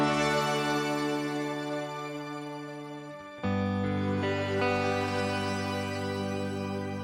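Guitar played through the Boss ME-90's shimmer delay gives a sustained, organ-like wash with an added octave-up halo, holding steady chords that shift to a new voicing midway, with no talking.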